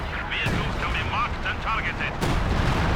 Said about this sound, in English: Just got some artillery from the Major